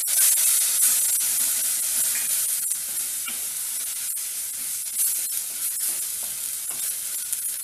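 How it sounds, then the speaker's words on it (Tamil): Sambar chili powder sautéing in hot oil with tomatoes, a continuous close, bright sizzle and hiss with faint stirring scrapes, no voices. "அந்த எண்ணெயிலேயே மிளகாத்தூளை வதக்கும் போது பச்சை வடையும் போயிடும்"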